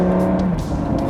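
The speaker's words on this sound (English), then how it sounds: "So fast gear change, ready?" A classic supercar engine roars loudly and close up through a fast gear change, the steady drone briefly shifting pitch mid-burst before pulling on.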